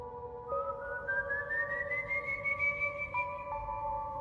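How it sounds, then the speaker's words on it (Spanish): A long, thin whistle slowly glides upward and hangs in the air, eerie and alone against a faint background hiss. "El silbido se repitió."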